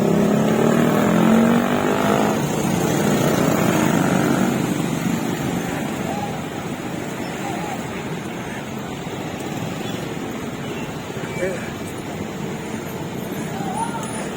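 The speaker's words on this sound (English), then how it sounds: "And this is traffic. It's Columbus rush hour." Steady rush-hour road traffic in Columbus, a continuous drone of car and engine noise passing nearby, loud at first and easing slightly, with no clear talk over it.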